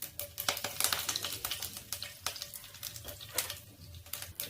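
Curry leaves and mustard seeds crackle in hot oil for poha, a soft, fairly quiet sizzle with quick popping bursts and the odd scrape of a utensil, and no talking.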